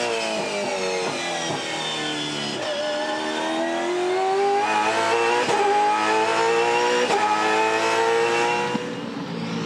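V8 Supercars racing cars at Winton SuperSprint in 2015, including a Ford Falcon, roar past with loud, sustained engine notes, rising and falling pitch as they accelerate and change gear, continuous and close without talk.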